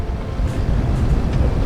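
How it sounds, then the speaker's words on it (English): Wind rushes over a boat anchored in a bay in northwestern Australia, a loud, steady low roar buffeting the microphone, with faint water movement. "It's calmed down a lot, but it's still windy. You can probably hear it."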